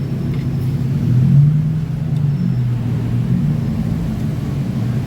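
A Honda Revo motorcycle engine idles and runs during a gear-shift test after clutch work, a steady low rumble with a brief rise in revs early on, heard close without speech.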